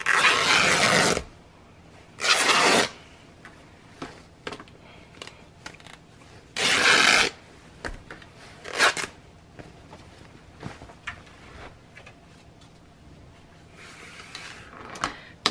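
Fabric being torn by hand after a small scissor snip, heard as several loud ripping bursts, each about a second long, with quieter rustling and handling noises between them.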